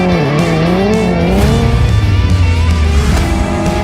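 A Hyundai N performance car drifts with a loud, continuous engine roar and long, sweeping tire squeal, close and intense throughout, with pitch rising and falling as it slides.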